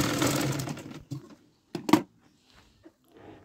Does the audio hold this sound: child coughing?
no